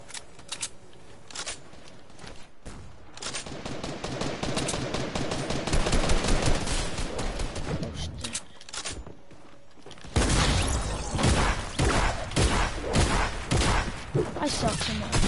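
Fortnite gunfire, rapid bursts of automatic shots and single cracks in dense volleys, loud and close, stopping briefly before a heavier stretch of firing, with a player's voice talking over it at times.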